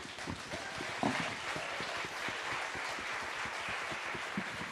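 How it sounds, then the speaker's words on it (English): An audience at a cities conference session claps for the speakers, a continuous wash of applause over a steady rhythmic low thumping, holding at a constant level without fading. "a big round of applause to our speakers"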